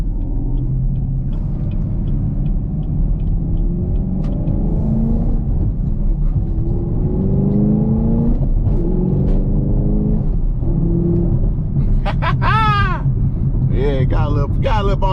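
A Camaro SS 1LE with a manual gearbox accelerating, its engine rumbling up through rising revs with shifts between gears, loud and close inside the cabin; people talk over it.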